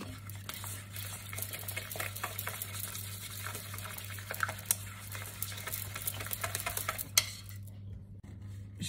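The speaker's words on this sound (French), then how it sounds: "Je vais récupérer un petit peu de lait que je vais mélanger à à mes œufs." Milk being whisked into eggs in a bowl for a strawberry tart makes a steady close stirring and scraping with small utensil clicks over a low kitchen hum, ending abruptly.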